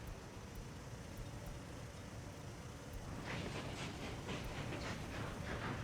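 A train running in the Workers & Resources video game, a steady low rumble with clattering wheel noise that grows louder and brighter halfway through.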